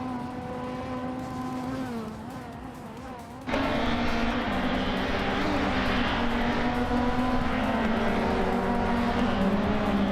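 Engine of a 2008 Volvo C30 in a racing video game, a loud sustained whine with rising and falling pitch through gear shifts, then a sudden jump to a harsher, fuller roar at higher revs.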